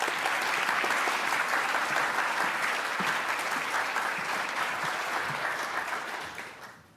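An audience at a Department of the Navy Presidential Rank Awards ceremony applauds honorees, sustained dense clapping from a large crowd that fades out near the end.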